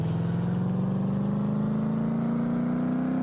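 Car engine on a test run in the video game Car Mechanic Simulator 2015, droning steadily and loudly while its pitch climbs smoothly as the revs build, with no voices.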